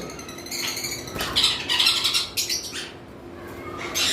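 Lovebirds in a caged setup give loud, close, harsh squawks and chirps in quick overlapping bursts, with a short lull before another call at the end.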